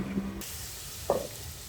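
Luchi puffing in hot oil gives a soft, steady sizzle and hiss, with a brief louder crackle partway through as the dough is moved in the pan.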